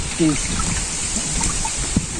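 Rain falls on a river near a moored boat with a steady shushing hiss, while someone talks over it and a low rumble runs underneath.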